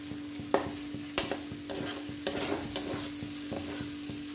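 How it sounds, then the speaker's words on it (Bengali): Chickpea masala with mayonnaise is stirred in a hot pan, with repeated spatula scrapes and taps over a low steady sizzle and a constant background hum. "ভালো করে কষে নেব।"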